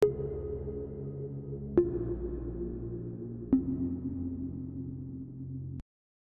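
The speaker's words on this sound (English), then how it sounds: "It's got like a sonar sound and a string underneath." A Korg Modwave synthesizer patch layering a sonar ping over sustained strings, with three sharp pings spaced about every two seconds, each ringing out over a steady low string pad that cuts off abruptly near the end.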